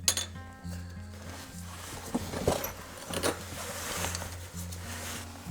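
A 3/4 inch drive socket is handled during rear driveshaft work on a Ford Escape, giving a few close metallic clinks and jangles over a low background hum.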